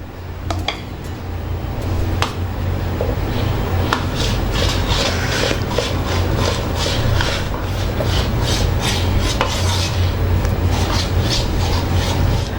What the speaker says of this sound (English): Now I'm going to take a little bit on my spatula and keep it on a side like this and spread it on the side.